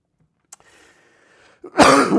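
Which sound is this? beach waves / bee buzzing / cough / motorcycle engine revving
cough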